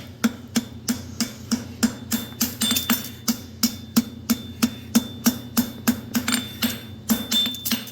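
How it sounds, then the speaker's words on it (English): A cross peen hammer striking a hot horseshoe on an anvil, sharp ringing blows in a fast, steady rhythm of about three per second, close and clear with no talking. "We're going to knead this all in with the cross peen."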